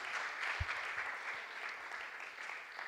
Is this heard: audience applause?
yes